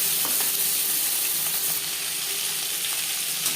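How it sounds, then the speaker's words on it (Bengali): Marinated katla fish pieces fry in hot oil for doi katla, giving a dense, continuous sizzle and crackle close by, steady in level without speech. "আমি একটু হালকা করে ভেজে নিলাম।"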